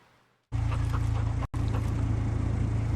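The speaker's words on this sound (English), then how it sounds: "Is my dog gonna be okay or what?" A dog pants heavily in the Darkwatch video game demo. After a brief quiet start, the rapid, breathy rhythm rises loudly and keeps up steadily, broken by one short dropout partway through.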